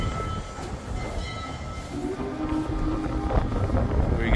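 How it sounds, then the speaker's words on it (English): Recorded train sound playing in a museum exhibit: a rumbling railcar rolling with rattles and clicks, building steadily louder and nearer over a few seconds. "I heard the train, I don't see it though."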